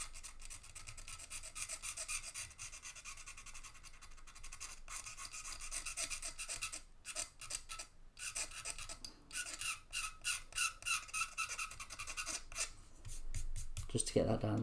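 A blade scrapes along a seam line on a Monogram B-25 plastic model kit, giving close, dry rasping strokes in quick repeated bursts with brief pauses, fairly quiet, with no voice over it.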